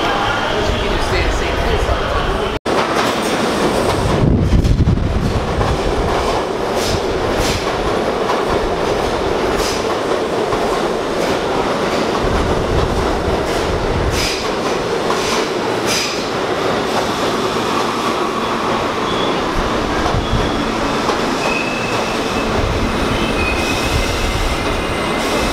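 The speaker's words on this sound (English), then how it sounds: "We're in the metro station now. We're gonna go get on the train to the memorial." A New York City subway train rides along with continuous loud rumble, rattling and clickety-clack, wheel squeals rising now and then, and a sharp click early on; the noise is close and constant throughout.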